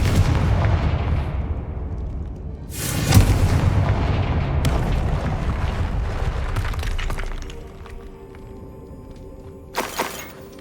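In Hogwarts Legacy, a Confringo fire spell lands as a sharp blast near three seconds, then shattering and rumbling debris, followed by another sudden burst near the end, with no talking.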